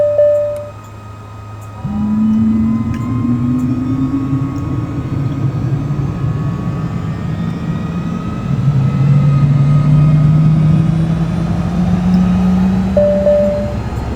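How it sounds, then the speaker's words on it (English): Engine startup of a FlightFX FF50 Vision Jet in a flight simulator: a steady whine spools up in pitch over a rising low jet rumble, continuous and loud, with no talking. "the startup process of this FlightFX FF50 sounds very realistic to me"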